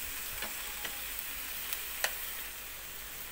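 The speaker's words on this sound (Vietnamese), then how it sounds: "Trước tiên mình xào cho rau cải chín" Leafy bok choy greens stir-frying in a pan for a vegetarian noodle dish, a steady soft sizzle with a few light clicks of utensil stirring, close and alone with no talk.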